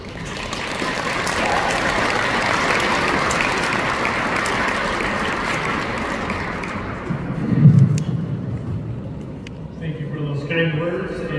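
Sustained audience applause fills the hall as a colonel is welcomed to the stage at an API Day event, steady and broad for several seconds before thinning out, with a brief louder bump near the end.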